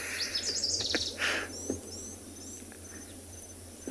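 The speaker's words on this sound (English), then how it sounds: "What is this bird saying to me right now?" Birds call during a sunset safari at Tswalu in the South African savanna, with clear chirps and trills over a constant bed of buzzing insects and crickets, plus a few soft taps, fairly near.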